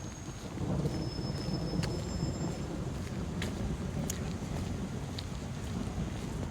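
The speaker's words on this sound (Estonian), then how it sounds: "see oli äike" Thunder rolls during a storm as a loud, continuous low rumble, washed with wind and rain noise and sustained across the whole stretch.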